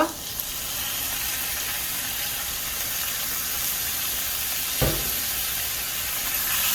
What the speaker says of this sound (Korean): 고기가 쨍하는 소리와 함께 볶아주세요. 쨍하는 소리 나죠?